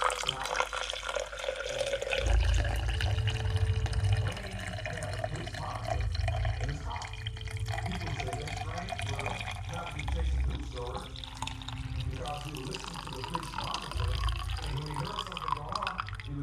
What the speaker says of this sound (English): all that's left to do is pour out your coffee